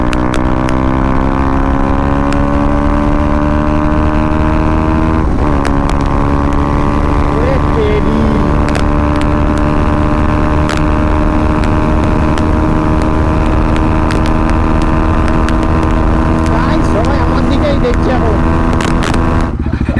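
A group of motorcycles, including a V3, two 200s, two 390s and a Beast, rides at speed on a gravel road, with steady loud engine drone and wind buffeting throughout.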